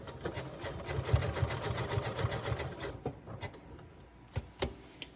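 A 6700P sewing machine zigzag-stitching around a fabric appliqué, with fast rhythmic needle clatter for about three seconds, then a few separate clicks and taps as the work is lifted and turned, close and moderately loud.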